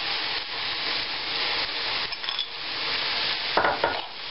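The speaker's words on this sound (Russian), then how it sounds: "Перемешиваем." Meat filling with prunes stirred in a frying pan, a continuous soft sizzle with scraping spoon strokes against the pan and a couple of sharper scrapes near the end, no voices.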